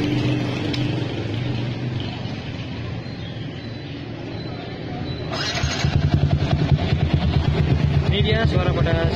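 A Yamaha Vixion Advance motorcycle fitted with a red-trimmed Wkrapovic exhaust idles steadily, then gets a blip of throttle partway through and settles into a louder, rougher, pulsing idle nearby.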